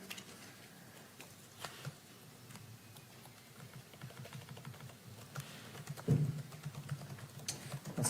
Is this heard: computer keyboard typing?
yes